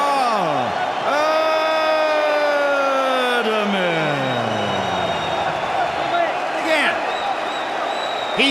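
A Polish-American boxing crowd in Chicago cheers and whoops loudly after a title victory. Rising and falling tones wail over the roar, and a voice talks over the noise.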